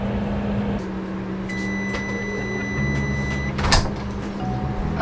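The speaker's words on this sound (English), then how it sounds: "we're going to take that back into our 375 degree convection oven for 5 more minutes" An enchilada casserole goes back into a 375-degree convection oven, a steady appliance hum with a short beep tone, a clunk of the door or dish around the middle, and a brief electronic chirp near the end.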